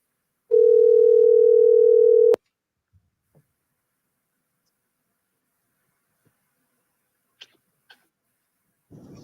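A telephone dial tone plays steadily for about two seconds while a call is placed to a coach, then cuts off into near silence with a few faint clicks and a soft rustle at the end.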